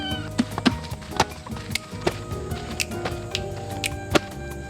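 A cat traveling with her kittens meows repeatedly and close by, about half a dozen short calls spread over a few seconds against a busy background.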